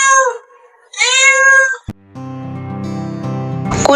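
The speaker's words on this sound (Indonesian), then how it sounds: "Kucing." A cat gives two clear, close meows, followed by a sharp click and a low, droning musical tone.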